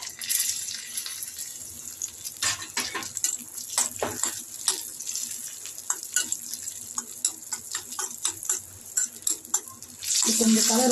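Cashew nuts are dropped into a pan and stirred while rice payasam cooks, with sizzling, scraping clatter and irregular spoon knocks, close and moderately loud, as someone talks over it.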